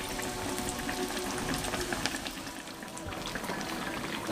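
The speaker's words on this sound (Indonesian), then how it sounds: "Kemudian baru kita akan goreng lanjut." Battered mushrooms coated in wet flour batter fry in hot oil, giving a steady, dense sizzle and crackle that runs unbroken at close range with no talking.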